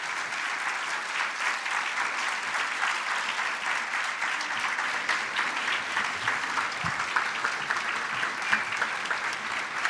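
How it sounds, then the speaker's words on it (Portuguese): Steady audience applause fills a conference hall at the SciELO 20 event, dense and even throughout as the crowd thanks the people being introduced, with no voices standing out. "me ajudem a agradecer a eles com os aplausos à medida que eu vou apresentando eles"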